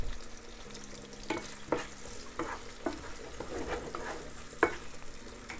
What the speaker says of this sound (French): Pendant ce temps, mon gombo cuit ici,